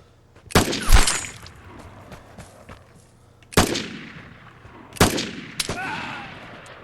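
Gunfire in the video game Vigor: several sharp, loud shot bursts with ringing decay, a cluster early, then single blasts and a quick double crack later, no speech.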